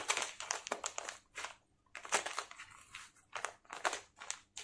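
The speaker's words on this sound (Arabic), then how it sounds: "هي بتيجي في كيس عامل كده بسوستة كده" A plastic zipper bag crinkles and crackles in close, irregular bursts as it is handled, with brief quiet gaps between the rustles.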